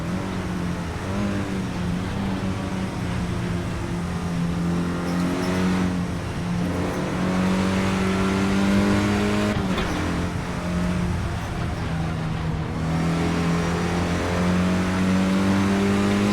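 A Renault Clio Cup race car lapping Spa in a racing game, its engine droning and revving steadily through upshifts and downshifts, close and loud for the whole stretch without talk.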